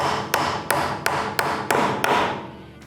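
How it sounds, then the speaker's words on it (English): A hammer drives nails into a pine planter box with six sharp, evenly spaced blows about a third of a second apart, each ringing briefly over a steady hiss of background noise. "So we'll go ahead and start nailing this up"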